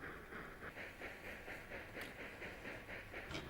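A train rolls along in a video game with a rhythmic, repeating chuff and clack over a steady hiss, heard faintly and evenly with no talking.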